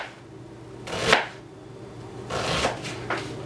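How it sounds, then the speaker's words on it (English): Knife cutting through an onion on a cutting board, sliced crosswise against a knuckle guide: a few separate chops, one sharp near cut, then a looser cluster of two or three strikes, with no talk. "Using my knuckle as a guide, I'm now just going perpendicular to those cuts."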